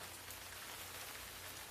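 Steady rain falls and patters on surfaces, a soft, even hiss with no pauses and no voices.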